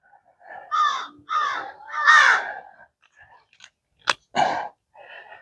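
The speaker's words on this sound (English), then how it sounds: "Sorry about the crows. They're flying around making noise today." Several crows caw in loud harsh bursts, a few calls in quick succession at close range, then a sharp crack and a last shorter call before fading to faint background noise.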